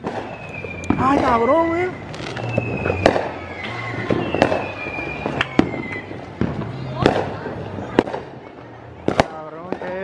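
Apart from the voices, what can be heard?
fireworks exploding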